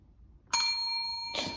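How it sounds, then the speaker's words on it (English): A small bell rings twice in quick succession at close range as a cat strikes it for treats, the first ding bright and lingering, the second a softer clang. "Can you hear the bell?"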